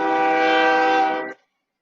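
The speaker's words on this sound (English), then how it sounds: "Train!" A train sounds its horn in one loud, steady blast lasting just over a second before cutting off abruptly, with no voices over it.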